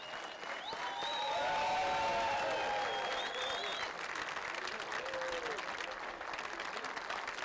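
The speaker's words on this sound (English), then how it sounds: "A standing ovation for Seamus the documentary" Sustained applause from a standing crowd at the premiere of a documentary honouring a football club captain, rising to a loud peak early on and then holding steady with a few whistles and cheers mixed in.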